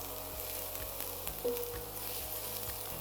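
Onions and garlic sweat together in a hot pan, giving a steady, close sizzle with faint crackles and a brief stir near the middle.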